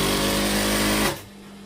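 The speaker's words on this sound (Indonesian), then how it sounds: "Sini kasih jahitan bantu dulu." A sewing machine stitches a basting seam on a Kasumedangan garment, giving a steady, close motor hum for about a second before it cuts off into quiet room tone.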